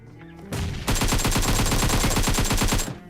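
Automatic gunfire in PUBG on the Erangel map, heard as a loud, rapid, evenly spaced burst of shots. The burst lasts over two seconds and is preceded by a single heavy report.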